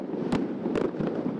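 Fireworks go off during New Year's night in Yakutsk, several sharp distant bangs over a continuous crackling rumble of more explosions further away.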